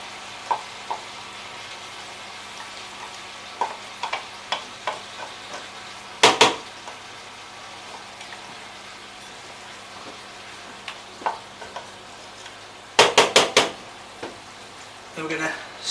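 Lemongrass frying in a pan for green Thai curry, a quiet continuous sizzle broken by sharp clattering stirs and scrapes of a utensil against the pan.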